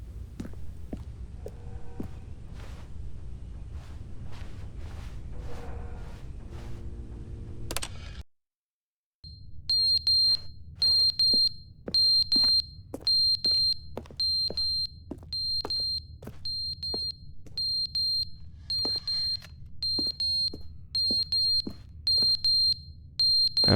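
Steady electronic alarm beeping inside The Stanley Parable Ultra Deluxe game, a regular series of sharp high beeps repeating at an even pace over a low hum, with no talk.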